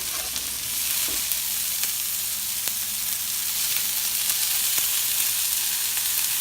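Steady sizzling and frying crackles from food with cilantro in a hot pan, with occasional sharper pops and light stirring, no voices.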